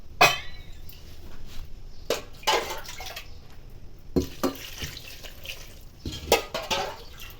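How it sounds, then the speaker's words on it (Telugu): Water poured into a pot of dal with green mango and ponnaganti greens, tomatoes and turmeric, heard as several short splashing pours with pauses between them, close by and moderately loud. "వాటర్ పోసుకుందాం."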